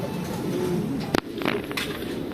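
Soft low pigeon coos murmur steadily, broken by a brief sharp flutter or knock midway, with a faint hiss in the background.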